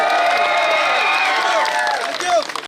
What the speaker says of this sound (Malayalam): ഒരു കയ്യടി തരാൻ പറ്റുമോ?